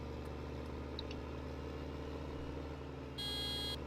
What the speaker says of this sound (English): Oh, nobody's gonna move for that horn.